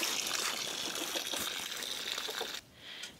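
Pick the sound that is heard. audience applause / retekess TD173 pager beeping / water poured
water poured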